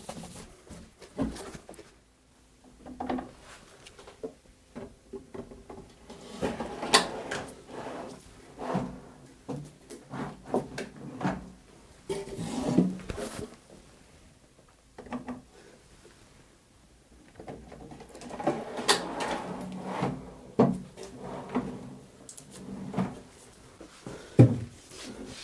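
Wooden drawers on side-mounted ball-race double extension slides are fitted back into a cabinet, with scattered knocks, sliding rumbles and soft thuds in uneven bursts at close range.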